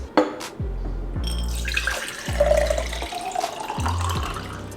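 Tap water pours into a glass to mix an electrolyte drink, a loud close splashing stream in several short bursts, with clinks and a rising fill tone as the glass fills.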